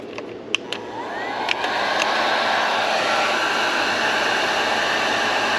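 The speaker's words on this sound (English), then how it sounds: "Then you're going to grab your heat gun." An electric heat gun blows a steady loud rushing hiss while shrinking heat shrink tubing over wiring connections for a Minn Kota PowerDrive trolling motor install, starting after a few clicks and ramping to a constant airflow roar.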